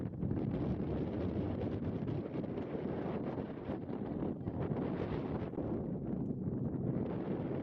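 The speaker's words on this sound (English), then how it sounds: "Extremely windy up here" Strong wind buffeting an exposed Dartmoor hilltop, a continuous loud roaring rumble with gusty surges and microphone wind noise throughout, no other sounds standing out.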